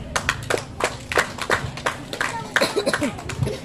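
An audience at a village health outreach event claps in a brief round of applause, the claps uneven and close, mixed with a few voices.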